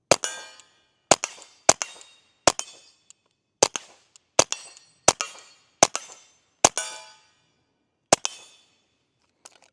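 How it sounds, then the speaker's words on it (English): A suppressed Ruger Mark IV 22/45 Lite pistol fires about eleven sharp, close shots at an uneven pace over roughly eight seconds, each crack ringing briefly with a metallic clang, with no talk between them. "let's take our final shots through the Ruger Mark IV 2245 Lite"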